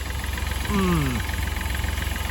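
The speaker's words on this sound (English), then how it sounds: "I've left it running on purpose. This is the diesel engine." A Smart ForTwo's diesel engine idles with a steady low rumble and rhythmic, tractor-like clatter throughout, while a voice briefly speaks over it.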